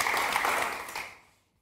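Studio audience applause for a young girl named Beyza on a Turkish television program, a brief burst of clapping that holds for about a second and then quickly dies away to silence.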